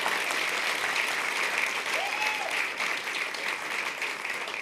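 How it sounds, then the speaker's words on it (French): Audience at an African stand-up comedy festival show applauding, a dense, steady wash of clapping that stays loud and even for the whole stretch. "je suis Camerounais, applaudissez quand même pour moi."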